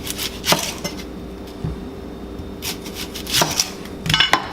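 Onions being chopped with a knife on a cutting board, a few sharp, irregular knife strikes in short bursts, close and clear, with quiet pauses between them.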